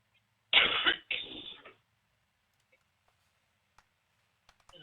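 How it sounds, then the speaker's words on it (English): Two quick, close coughs in succession, followed by near silence with a few faint ticks. "I'm starting to cough and get more yuck."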